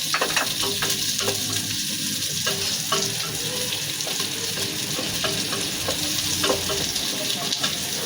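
Sliced onions fry in a pan for a Filipino fish soup, making a constant close sizzle with soft stirring clicks and scrapes throughout and no talking.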